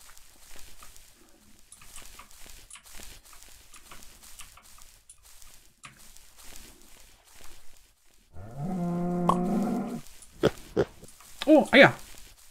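Pigs in the Minecraft-like game MineClone2 let out a loud, drawn-out grunting squeal followed by a few short oinks near the end, after a stretch of quiet ticking and faint background sounds.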